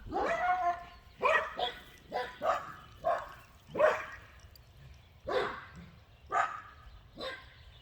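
A dog barks repeatedly in a home with several pets, about a dozen sharp, fairly close barks in an uneven rhythm with short gaps, alone without talk.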